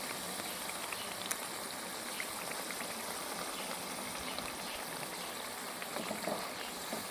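White korma masala with yogurt and cream bubbling and sizzling in a pot, a steady soft crackle and simmer throughout with no talk.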